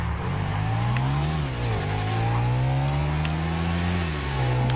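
Motorcycle engine accelerating on the road, recorded up close from the rider's position, a steady droning tone that climbs in pitch, dips briefly on a shift, then climbs again, loud and continuous.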